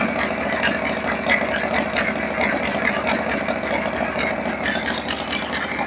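A Harley-Davidson Shovelhead FXE 1200 with an S&S Super E carburetor runs steadily nearby, a loud, continuous mechanical drone with its revs held raised and no voices over it.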